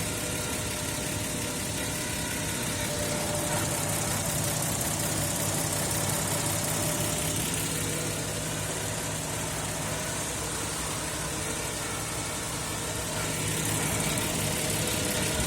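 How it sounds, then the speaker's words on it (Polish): Engine of a 1992 Nissan Patrol 4.2 petrol six-cylinder idling on LPG, a steady low rumble that stays even throughout, with no voices. "autko na gazie"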